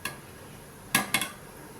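A metal spoon scrapes and clinks in a pan while sweet potato cashew halwa is stirred, giving a soft click and then two sharp clatters near the end, close and otherwise quiet.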